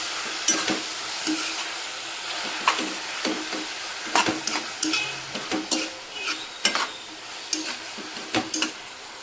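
Aloo palak curry frying in a pan while being stirred, a steady sizzle broken by repeated sharp clicks and scrapes of a spoon against the pan at an irregular rhythm, close and without speech.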